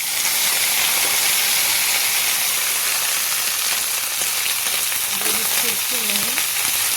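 Cauliflower fries in hot oil with a loud, steady sizzle and hiss that carries on without a break, with faint voice-like tones near the end.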